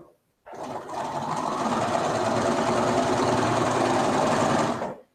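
A sewing machine stitches quilt squares in a studio, starting abruptly and running as a steady, fast mechanical whir for several seconds before stopping cleanly.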